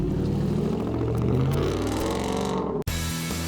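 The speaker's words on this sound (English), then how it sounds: "I don't want him to take off fast so we can hear that motor" A Ford pickup truck engine hums and revs up close, building for a few seconds before cutting off abruptly into a quieter idle tone.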